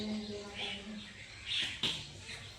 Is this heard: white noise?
no